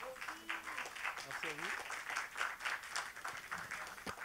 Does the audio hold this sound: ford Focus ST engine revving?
no